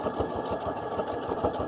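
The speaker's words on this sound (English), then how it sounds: "it's stitch 21 on my machine, but it's like a little curly stitch" A home sewing machine sews a curly decorative stitch, its motor humming with a quick, even mechanical clatter, close and steady throughout.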